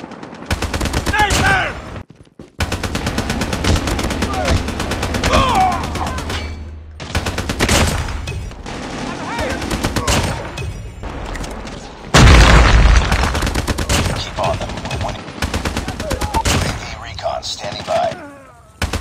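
Repeated AK-47 bursts in a first-person shooter, loud and close, firing in dense clusters with short pauses between volleys, with heavy booming impacts and a voice talking over parts of the action.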